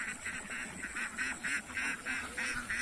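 Ducks quacking and honking in a repeated rhythmic series, about one call every half second, from a flock moving in a line outdoors, moderately close with steady background noise.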